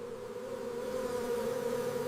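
Bees buzz in a steady, continuous drone, a close, unbroken hum with no other sounds.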